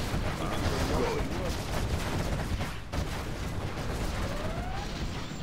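Quad cannon gunfire from the Command & Conquer Generals Zero Hour battlefield forms a steady, dense rattle of rapid shots mixed with explosions and game noise, continuous for the whole stretch, with voices heard over it.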